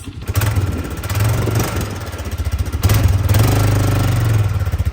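A Polaris Sportsman 500 ATV engine runs loudly up close, its rumbling idle rising and settling in uneven pulses.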